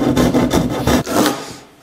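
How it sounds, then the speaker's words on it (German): A very thin fine handsaw cuts through the last two centimetres of a kitchen countertop cutout made to fit a gas hob. About five quick, rhythmic rasping strokes sound close and loud, with no talking. "dafür nehme ich einfach hier diese Feinsäge und die ist halt sehr, sehr dünn"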